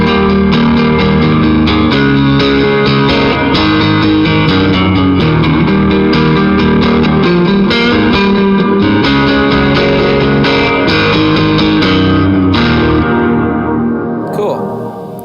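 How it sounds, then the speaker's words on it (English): Heavily overdriven electric guitar chords through an overdrive distortion pedal ring out with dense, sustained distortion, played continuously and loud, then fade toward the end. "this is where it really gets into more of like an overdrive distortion kind of a pedal"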